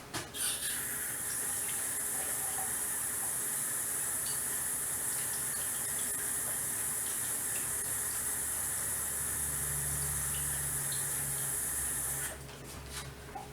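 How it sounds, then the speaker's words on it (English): A quarter cup of water pours steadily into a cheddar potato, ham and broccoli casserole mixture, a continuous hissing splash lasting about twelve seconds, close and fairly loud, then stopping abruptly. "Now, I'm putting in 1/4 cup water."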